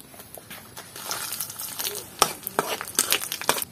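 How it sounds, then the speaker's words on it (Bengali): Chillies, onions and shrimp fry in a pan with a soft sizzle, broken by scattered stirring scrapes and clicks that grow busier toward the end, close and fairly quiet. "চিংড়ি ভর্তা করার জন্য আমরা এবার মরিচ, পেঁয়াজ এবং চিংড়ি মাছটাকে ভেজে নিব।"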